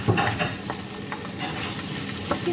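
Chicken frying in a pan with bacon for a creamy carbonara, a close, steady sizzle with stirring and scraping clatter throughout.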